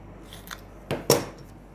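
Scissors snip through small paper words in a couple of quick, crisp cuts, close and fairly quiet over a calm background.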